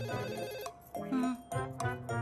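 A telephone ringing indoors in repeated tonal bursts with short gaps, fairly close and moderately loud, partly mixed with background music.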